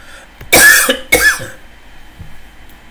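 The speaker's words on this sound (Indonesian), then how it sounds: "kenapa jadi batuk kayak gini ya?" Two sharp, loud coughs in quick succession, followed by a quiet room with faint background hum.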